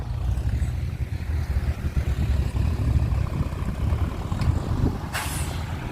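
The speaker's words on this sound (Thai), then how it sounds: "เอารถไถมาดันทมดิน" A tractor pushes and fills soil to level ground at a Thai family home being prepared for a wedding, its engine a steady low rumble throughout, with a brief hiss near the end.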